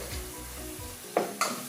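Spiced Bangladeshi lamb and rice stirred in a pot, a soft continuous scraping and low sizzle with two brief louder clanks of a utensil against the pot near the end.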